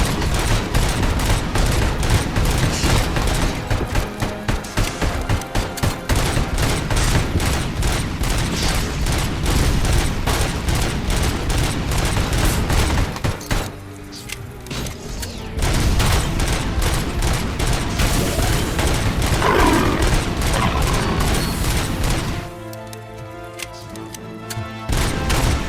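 Sustained rapid gunfire aimed at the ED-209 robot in RoboCop: Rogue City, loud and dense bursts with brief lulls near the middle and end, no talk over it.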